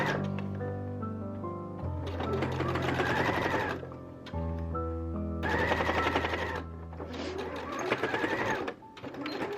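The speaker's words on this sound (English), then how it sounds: "take it back over to your sewing machine and you're just going to stitch in the ditch all the way around" A sewing machine stitches steadily in long runs, pausing briefly between passes, its motor whirring and needle chattering up close.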